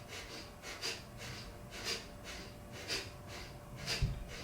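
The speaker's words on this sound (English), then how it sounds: "When you're ready, close your mouth and pant through your nose." Rapid rhythmic panting through the nose during a Kundalini yoga breathing exercise, soft repeated sniffing pulses at an even pace over a hissy room background.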